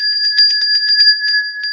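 A small bell rings in a quick run of clear, bright metallic strikes, about a dozen in under two seconds, close and alone with no talking.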